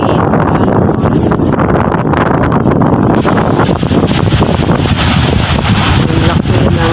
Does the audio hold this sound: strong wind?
yes